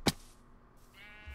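A sheep bleats once, briefly and fairly quietly, just after a sharp thud, with little else around it.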